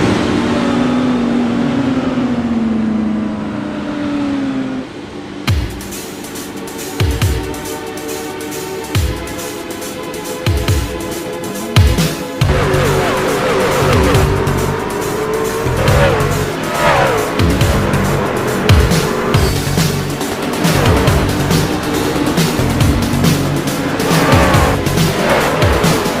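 IndyCar race cars at the Long Beach street circuit scream past in a dense, continuous roar, engines rising and falling through gear changes with repeated sharp tire squeals and skids, loud and close throughout after a brief quieter opening.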